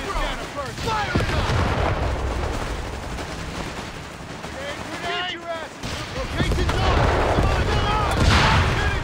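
Artillery gun firing in Company of Heroes 3 amid a dense battlefield mix of booms, gunfire and shouting voices, loud and continuous with heavier blasts toward the end.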